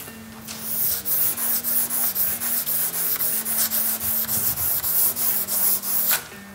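Hand sanding along a body edge of an Oettinger TCR Street Kit, a steady rhythmic run of close, loud rubbing strokes, about a dozen back-and-forth passes with no talk.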